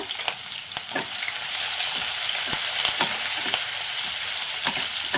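Chopped ginger and a couple of green chillies fry in hot oil, giving a continuous close sizzle broken by sharp, irregular spatula scrapes and clicks against the pan.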